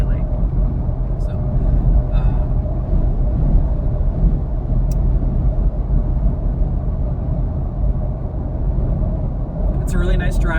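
Steady low road rumble inside a moving car on a sunny day, continuous and fairly loud, with a few faint clicks and a brief rattle near the end.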